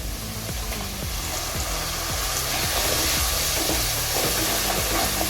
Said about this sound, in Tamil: பூண்டு லைட்டாக வதங்கினதும் சின்ன வெங்காயம் அரைச்சது இப்போ இதையும் சேர்த்துக்கலாம்.